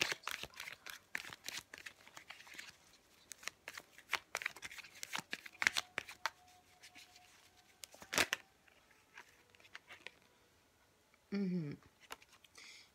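Tarot cards are shuffled and flipped close by in a run of quick, crisp riffles and slaps, with brief pauses between bursts and a short swell of a voice near the end.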